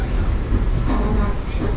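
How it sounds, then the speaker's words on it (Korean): An old subway metro train in Washington DC rumbles steadily with loud low-frequency drone and rattling, while people talk over the noise. "그냥 되게 오래된 지하철처럼 생겼어요"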